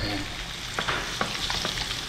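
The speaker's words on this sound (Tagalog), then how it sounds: "At malapit na po maluto itong prito ng karpa." Silver carp fish fry in hot oil with a dense, steady sizzle and crackle, close and continuous, broken by a few sharper pops and stirring scrapes.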